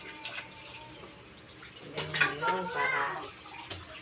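Water runs and splashes while a kitchen sink is scrubbed clean, with clattering and rushing bursts in the middle. Someone speaks briefly over the sound.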